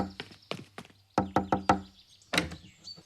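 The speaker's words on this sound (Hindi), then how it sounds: "रोहित, दरवाजा खोलो।" Sharp knocks on a door come in quick bursts, a pair, then a rapid group of four, then another cluster, loud and close with short silences between.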